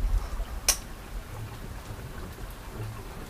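Rain falling steadily on a trail in the woods, a soft continuous hiss with one brief sharp patter or crack near the start and no one speaking.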